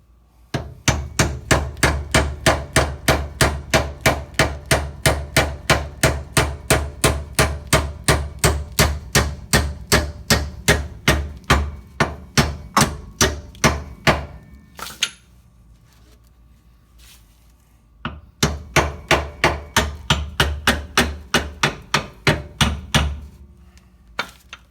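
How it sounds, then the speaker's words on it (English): Steady, rapid metallic hammer blows drive a rear shock absorber part onto a threaded bolt on a 2001 Honda Odyssey, about two strikes per second, loud and close, pausing briefly before resuming. "you do have to hammer it back on"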